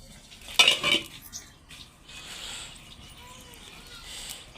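Cooking pots and a pot lid clatter in a household kitchen as a fire is being lit, a sharp metallic burst of clanks near the start followed by quieter handling and faint background voices.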